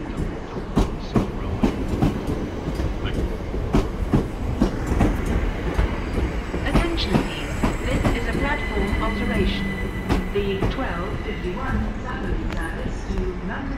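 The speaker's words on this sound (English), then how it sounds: "Southern Railway arriving here at Redhill." Southern Railway Class 377 electric train arriving at Redhill station, with rumbling wheels, rhythmic clickety-clack over rail joints and squeals, loud and close, while a station announcement voice talks over it.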